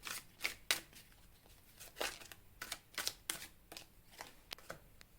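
Tarot cards are shuffled by hand for a relationship reading, heard up close and quiet as a series of crisp riffling bursts and soft flutters with short pauses between them, and no talking.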